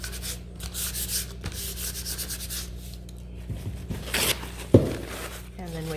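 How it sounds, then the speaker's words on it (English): A wooden tray piece from a laser-cut kit is hand sanded along the grain, giving a steady close rubbing and scraping, with a few sharp knocks and a voice speaking briefly near the end. "So when I'm sanding, I'm going with the grain"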